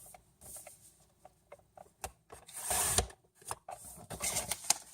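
Paper pages for a pocket calendar, three sheets at once, being cut in short scraping snips and slides, with irregular rustles and a louder burst of crisp paper noise near the middle, close and fairly quiet.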